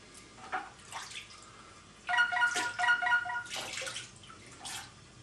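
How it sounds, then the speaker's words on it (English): Water is poured in small splashes into a sanitized beer fermenter airlock, giving a few faint trickles and drips, then a denser burst of bubbling, pouring sound in a quiet room. "Put a little bit of water in there."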